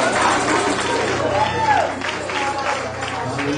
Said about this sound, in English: Will you clap your hands for your neighbor